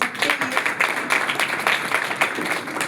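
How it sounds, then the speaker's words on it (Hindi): An audience at a nursing students' event bursts into dense, steady applause, many hands clapping loudly together for about three seconds without letting up. "एक जोरदार तालियां सबके लिए"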